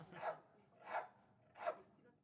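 Dogs bark three times in a steady rhythm, each bark about 0.7 seconds apart, moderately distant and slightly muffled outdoors near a border fence.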